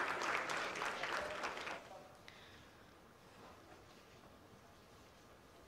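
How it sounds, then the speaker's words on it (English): Applause from a crowd in a space mission control room during a lunar lander's braking phase, a dense burst of clapping for about two seconds that then fades to quiet room tone. "Oh, they're clapping something."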